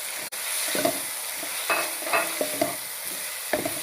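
Close, crackling sizzle of boiled chicken frying in a pan, with scraping stirs of a utensil at irregular intervals.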